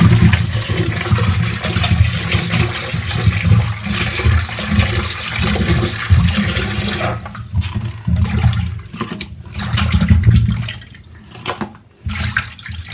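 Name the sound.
running tap water washing cleaned sardines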